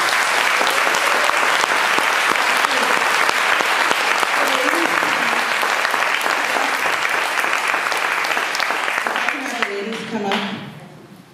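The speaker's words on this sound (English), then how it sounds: "let's give one more applause" Sustained applause from a large audience at an evening event honouring women, dense clapping filling the room loudly for most of the stretch before tapering off near the end, with a few voices rising over it.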